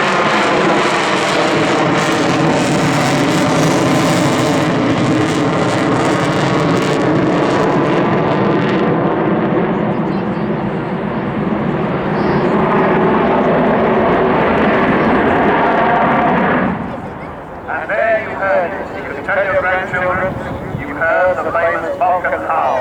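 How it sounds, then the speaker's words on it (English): Avro Vulcan XH558 jet bomber at Dunsfold Aerodrome airshow, four big engines at full throttle, a loud sustained tonal howl and roar building and holding as it passes near, then cutting to a rougher, fluctuating engine rumble; voices may be present underneath. "Vulcan Howl, that's what that sound was as she came towards us and taps were open"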